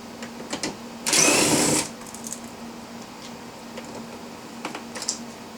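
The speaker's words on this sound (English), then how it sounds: "there's another 7mm bolt. So we're going to take that off." A power ratchet or driver whirs in one loud burst of under a second as it backs out a 7mm bolt on a 2017 Chevy Cruze door panel, followed by faint clicks and handling noises.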